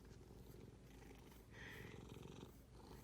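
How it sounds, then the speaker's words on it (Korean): A fat cat purrs continuously up close, a low rumbling, steady vibration that stays dense and even throughout with no talking over it, though the overall level is quiet. "이렇게 그르렁 소리가 노골적으로 들린 고양이도 참 오랜만이네요"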